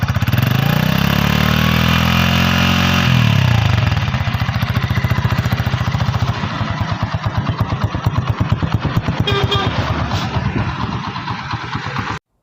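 A new Honda CD 70 motorcycle idles with a steady, rapid exhaust putter, loud and close, slightly higher and smoother for the first few seconds before settling into an even thumping rhythm.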